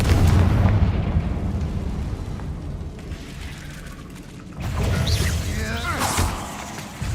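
Confringo fire spells burst in Hogwarts Legacy: heavy booming blasts rumble loudly at the start, ease into a lower roar, then a fresh explosive surge hits with crackling debris near the end.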